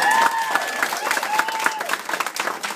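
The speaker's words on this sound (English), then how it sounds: "that deserves a bigger round of applause." Wedding guests applaud in a dense, steady patter of hand claps from a crowd, with a voice speaking over it and faint musical tones in the background.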